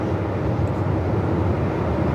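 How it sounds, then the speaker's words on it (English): Qantas Airbus A220 making a full-length departure at Melbourne Airport in 45-knot winds, a dense low jet-engine roar mixed with wind rumble, steady and fairly loud with no talking. "Full length departure for the A220"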